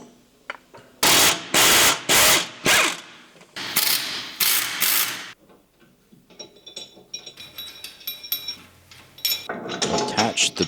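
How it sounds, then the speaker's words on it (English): A hydraulic puller works on a bolted wheel hub and bearing assembly, giving loud repeated mechanical clacks and ratcheting bursts, then quieter clicking and whirring. "Then we apply controlled hydraulic pressure to safely remove the hub."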